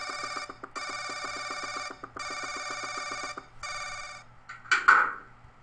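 In the horror video game Paranoiac, a telephone rings in four long, evenly spaced electronic bursts, close and clear in a quiet room, followed by a short sharp noise.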